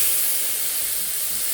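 Tomato hits hot oil with chili powder for egg-and-chicken biryani, giving a steady, close, even sizzling hiss that holds for the whole moment with no talking.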